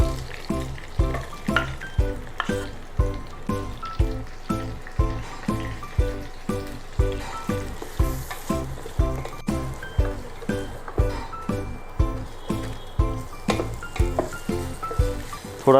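A heap of onions fries in a pan for nalli nihari, with steady rhythmic scraping and stirring strokes repeating about twice a second over a continuous sizzle, close and fairly loud, with no voices.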